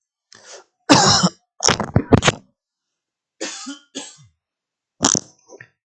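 A man with a mild cold coughing and clearing his throat near a microphone, several short harsh bursts in quick succession, then a pause and a couple more coughs, close and loud in a quiet room.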